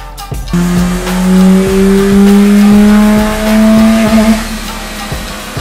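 Revving Perodua Myvi 1.3 or 1.5 engine (2011–2017 model) fitted with a Max Racing air intake system, a loud sustained rising drone that climbs steadily in pitch, then drops back after about four seconds.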